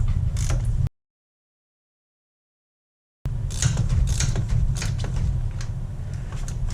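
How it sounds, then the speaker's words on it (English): Ratchet turning a bolt on a Mazdaspeed thermostat housing, a run of close, quick mechanical clicks that stop for a gap and then resume, loud and unbroken by speech. "you need the ratchet going the right way"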